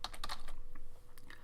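Someone types on a computer keyboard in a short, quick run of light, close key clicks with a slightly uneven rhythm. The clicks are soft overall and no voices are heard.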